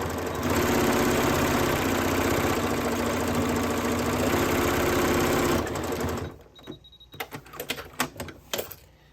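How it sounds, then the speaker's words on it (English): A sewing machine runs a straight line of stitching down the center of a fabric coaster made from scraps, with a fast, continuous mechanical whir for several seconds that stops abruptly, followed by scattered clicks and handling sounds. "Now I'm just going to run a parallel stitch right down the center"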